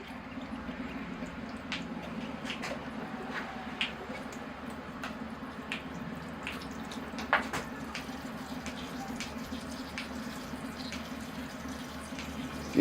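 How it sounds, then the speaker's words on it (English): Water is poured onto a small rubber tree bonsai, giving a soft continuous trickle and splash with scattered drips, faint and fairly close throughout, with no one talking. "All right, here I go with the water."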